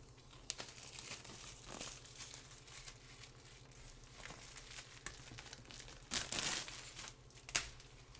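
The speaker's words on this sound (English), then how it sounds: "So let's unwrap this box and see what is inside." Crinkling plastic wrap being torn off a 1972 Walt Disney World Magic Kingdom board game box, a steady close rustle with a few louder crackling tears near the end.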